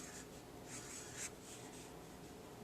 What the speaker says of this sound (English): the last thing that we will do is I'm going to write